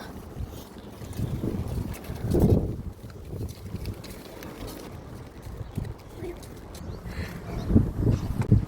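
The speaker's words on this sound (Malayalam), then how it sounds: "ഭയങ്കര കാറ്റ്" Strong gusty wind blows outdoors before rain, buffeting the microphone in uneven surges that swell and fade, with people talking over the rushing gusts.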